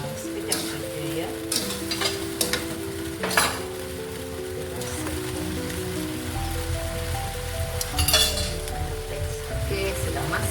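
Cauliflower and mushrooms simmer in a thickened sauce with a continuous soft sizzle and bubbling, punctuated by stirring scrapes and light clinks of a utensil against the pan.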